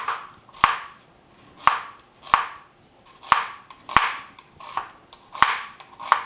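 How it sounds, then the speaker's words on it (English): A knife slices through onions on a cutting board in sharp, distinct strokes, about nine chops spaced roughly half a second to a second apart, each a crisp close thud with a brief papery crunch, no talking. "the other 2 onions are going to be thinly sliced for caramelization"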